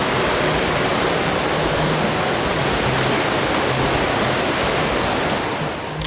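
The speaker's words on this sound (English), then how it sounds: "Well, we made it to the Manitou River." The Manitou River rushes along the Superior Hiking Trail, a loud, steady roar of flowing water that fills everything, unbroken and close, with no voices.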